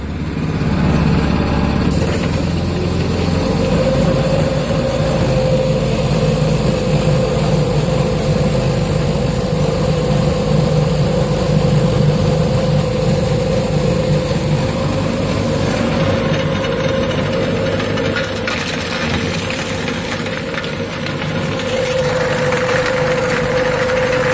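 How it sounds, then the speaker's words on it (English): Motor of a gold mining machine running at faster speed, a loud, steady droning hum with a constant tonal whine that holds for the whole stretch with no talk. "we're ready to turn the motor on to faster speed so that I can run this material through"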